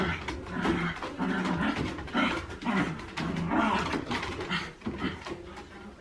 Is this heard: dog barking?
yes